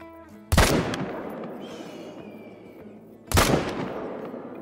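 Two loud rifle shots, about three seconds apart, each cracking sharply and then rolling off into a long echoing tail over faint outdoor ambience, fired at whitetail bucks while hunting in the video game Call of the Wild.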